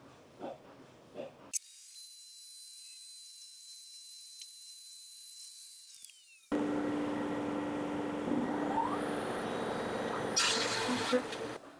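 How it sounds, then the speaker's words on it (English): A wood board runs through a thickness planer: a steady high machine whine first, then a sudden, louder broadband roar of cutting that holds for several seconds, with a brief voice at the start. "And once it's sent through the planer"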